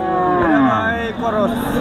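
Cattle low at the Hazratpur cow market, with long, drawn-out moos from nearby animals over steady crowd noise and background chatter.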